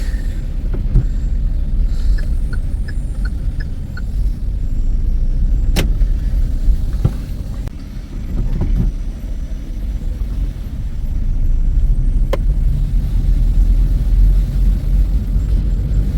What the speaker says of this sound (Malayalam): കിലോമീറ്ററുകളാണ് വണ്ടി വന്ന് കിടക്കുന്നത്